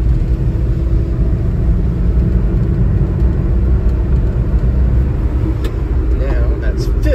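A Daihatsu Hijet mini truck climbing a steep hill in fourth gear: a steady, loud engine drone with road rumble that carries on unbroken the whole time.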